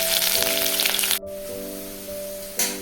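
Onion, ginger and garlic fry in a pan for Assamese chicken cooking, giving a steady, close hiss that drops away briefly, then returns with tonal hums running beneath.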